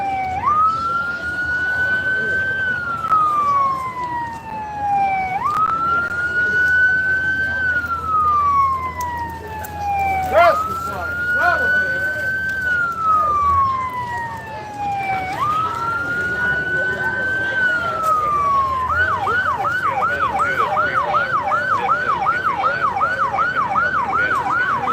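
An emergency vehicle siren at a parade of lights wails in repeated rising-and-falling cycles, then switches to a rapid yelping pattern near the end, with traffic rumble beneath.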